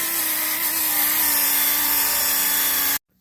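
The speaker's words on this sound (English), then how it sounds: "We'll buff it up like that." Power buffer polishing a badly worn metal rim, a loud steady motor whine with a constant tone that runs without a break, then cuts off abruptly near the end.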